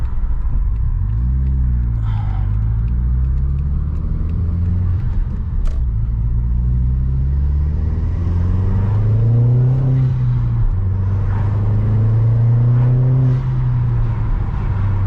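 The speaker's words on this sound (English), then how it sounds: "straight away you can hear the induction kit and that Cobra exhaust that is put on" A SEAT Leon Cupra R Mk1 engine with an induction kit and Cobra exhaust rumbles loudly and steadily, revving up and down with a deep throaty exhaust note and an airy intake whoosh, no talking.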